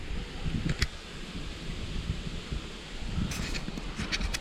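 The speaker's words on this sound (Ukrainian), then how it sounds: "Погода зараз плоховата, вітер дує" Wind gusts and rumbles steadily against an outdoor microphone while float fishing for crucian carp, with faint rustling and a few brief crackles.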